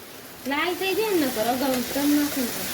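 Steady hissing sizzle of peanuts frying in hot oil for a batata poha recipe, with a soft tonal hum drifting over it.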